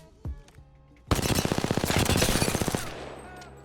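C.A.R. SMG firing in Apex Legends at the Firing Range, a single early shot, then a loud rapid burst of closely spaced rounds lasting nearly two seconds before dying away.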